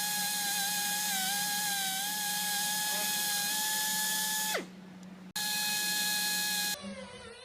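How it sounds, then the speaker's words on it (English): KRAIS MiniCut 100 internal tube cutter working inside a heat exchanger tube during field retubing, a steady high-pitched motor whine with a tonal drone, briefly dropping out mid-clip before resuming loud and close. "The KRAIS MiniCut 100 is an internal tube cutter built for such cases."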